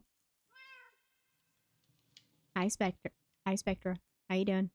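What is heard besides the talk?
cat meowing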